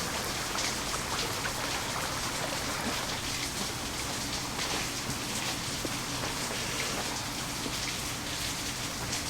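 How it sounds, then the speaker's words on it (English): Steady rain pours down in a dense, continuous hiss, with scattered drops pattering close by throughout. "We can hear again the ambience of the rain."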